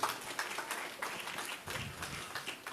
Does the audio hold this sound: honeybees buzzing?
no